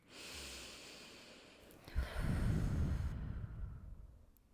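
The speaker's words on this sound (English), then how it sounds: "Let's do some breathing." A person takes a long, deep breath in during a breathing exercise, a close, airy rush of inhalation followed by a second, fuller intake through the nose.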